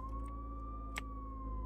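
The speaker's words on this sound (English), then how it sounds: "I should turn on my sirens" A steady wailing siren tone from a video game vehicle sounds continuously at moderate volume, with faint game noise underneath.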